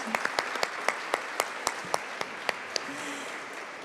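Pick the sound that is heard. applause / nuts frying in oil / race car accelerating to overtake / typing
applause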